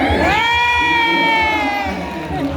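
A loud crowd roars and cheers together, with high whoops and shouts rising over a sustained wall of voices.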